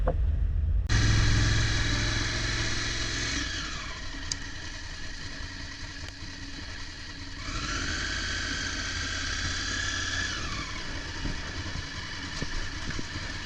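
Engine of a 2016 Honda Africa Twin motorcycle while riding, a steady mid-pitched drone with wind rush, rising and falling through gear changes, close and continuous with no talk.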